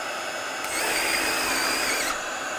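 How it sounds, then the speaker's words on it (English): Cordless drill running on a 5 amp hour power stack battery at speed 3, driving in hard: a loud steady motor whine that kicks up partway through, holds for about a second and a half, then drops back. "We're gonna drill this in as quick as we can."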